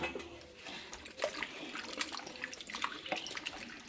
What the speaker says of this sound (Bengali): তো আমি দুবার জলটা দিয়ে ধুয়ে নিচ্ছি